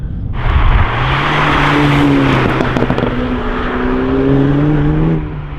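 A 2019 Renault Megane RS Trophy powers out of a corner under full throttle, its engine roaring loud and steady as the pitch climbs through the gears, heard from close by.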